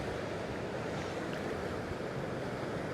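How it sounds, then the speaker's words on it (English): Ocean waves crashing on jagged rocks along a coastline, a continuous loud roar and wash of surf mixed with wind buffeting. "There's some lovely waves out there."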